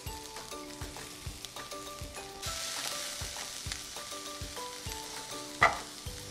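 Tomatoes cut without pulp tipped into a hot pan for three-bean rice, giving a steady sizzle and frying hiss, with a sharp clatter near the end over light background music.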